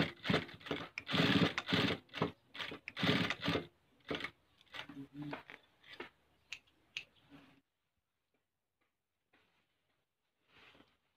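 Sewing machine stitching the loop area of a trouser waistband being taken in, bursts of rapid rhythmic clattering stitches that pause and restart, then fall quiet.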